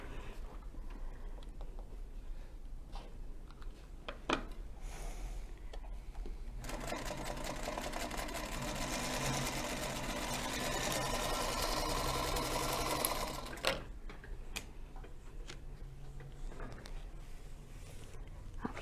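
A Featherweight sewing machine stitches half square triangle quilt pieces, running steadily for several seconds in a sustained mechanical whir, with quieter handling noises before and after.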